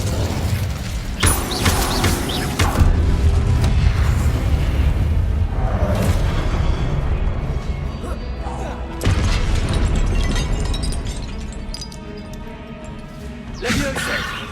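An Incendio fire spell in Hogwarts Legacy bursts with whooshing flame and booming impacts amid a busy stretch of spell effects, crashes and magical swishes, loud and close, with someone speaking over the action.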